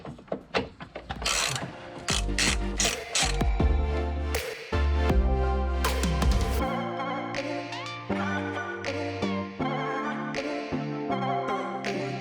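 A ratchet wrench clicking in quick bursts during a Subaru engine swap, loud and close, with rapid pawl ticks broken by short pauses and clanking tool noise.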